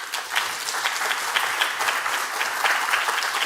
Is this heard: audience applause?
yes